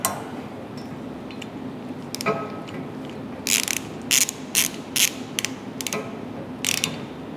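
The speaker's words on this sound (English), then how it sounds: "Once your screw's in, you can tighten that up with the screwdriver. Then your socket set." A socket wrench ratchets while tightening a heavy Paris table base, with a few soft clicks first and then a rhythmic series of crisp, close clicking bursts in short strokes.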